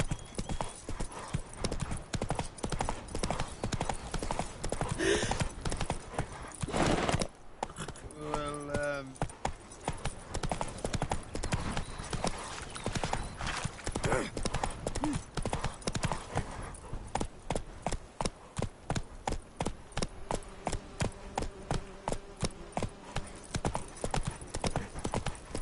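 Hooves of Roach, the horse in The Witcher 3, pound in a fast, regular gallop that runs the whole stretch, fairly quiet, with a brief spoken line midway.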